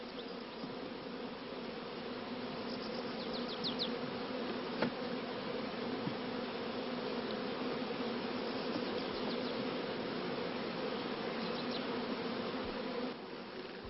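Honey bees drone steadily around an opened hive during a beekeeping inspection, a dense, continuous buzz of many insects with a few louder passes close by and no voices.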